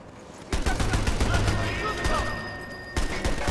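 Rapid gunfire rings out in the video game Sniper Elite 4, with a dense burst of sharp shots followed by another volley near the end. A person talks over the shooting.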